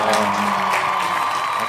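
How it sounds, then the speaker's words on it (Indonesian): Audience applause at a school OSIS and SMK quiz-style talk show after a correct answer, a short steady patter of clapping throughout with faint crowd noise. "Kasih tepuk tangan dulu dong."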